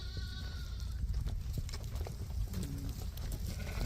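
Sheep and lambs bleating in a flock, several overlapping calls against a steady outdoor background, with occasional hoof shuffles.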